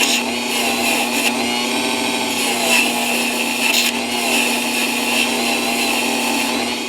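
A rotary tool with an abrasive bit grinds against a handmade silver ring, giving a continuous high-pitched whine with a steady buzzing drone, loud and close, with no pauses or talk.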